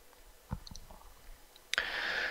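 A computer mouse button clicks a few times in quick succession during work in V-Ray for SketchUp, sharp and close, before a steadier broadband hiss rises and holds to the end.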